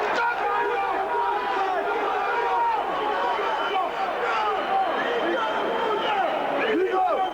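Football supporters packed into stadium stands in 1999 make a loud, continuous roar of crowd noise, with chanting and shouts rising and falling throughout.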